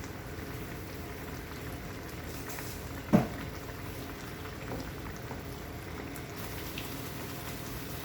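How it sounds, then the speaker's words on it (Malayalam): Egg roast gravy boiling in a pan gives a steady, low bubbling simmer throughout, with one brief knock near the middle and no talking. "ഇനി ഇത് നന്നായിട്ട് തിളച്ച് വന്നിട്ടുണ്ട്."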